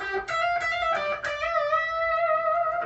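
A distorted electric guitar plays a short riff of picked notes, with one note bent upward and held with a wavering vibrato.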